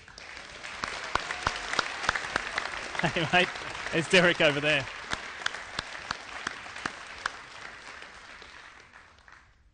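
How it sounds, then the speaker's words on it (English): Applause from an audience at the 2013 INDYCAR championship celebration, a steady dense clapping that swells and then slowly fades, with someone speaking briefly over it nearby. "A round of applause for Ricky Davis."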